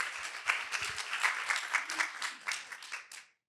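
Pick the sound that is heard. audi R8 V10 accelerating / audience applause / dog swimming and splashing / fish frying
audience applause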